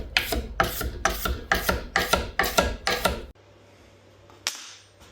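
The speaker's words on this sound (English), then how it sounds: "First we will scrape off the shiny oxide layer." A hand scraper shaving the shiny oxide layer off PVC before welding, about eight rhythmic rasping strokes close up, followed by a quieter hum and a single knock.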